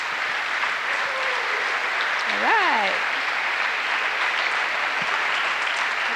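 Audience applause at a 1999 high school variety show, a steady wash of clapping that runs the whole time, with a brief spoken voice over it.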